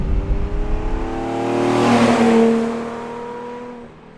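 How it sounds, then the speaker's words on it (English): A Lamborghini Islero engine pulls hard under acceleration, its rising harmonic whine climbing and swelling loud mid-run before easing away, with no voices over it. "I'm just going to open it up again. Goes really well. Very nice acceleration."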